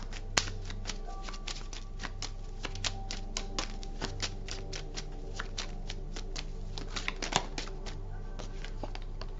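Tarot cards shuffled by hand in a rapid, continuous run of crisp flicks and riffles, close up and soft, over a faint low hum.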